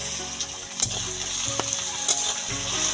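Onion, garlic and dried fish fry in a pan with salt, giving a steady close sizzle broken by a few sharp clicks of stirring, with no voices.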